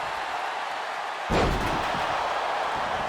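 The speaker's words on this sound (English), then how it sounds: "Slamming Fatu's head against the mat." A single heavy slam of a wrestler's head hitting the mat in the WWE 2K25 wrestling video game lands sharply mid-clip, rising out of a steady arena crowd roar that continues afterward.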